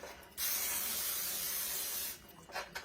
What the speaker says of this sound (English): I spray their pan.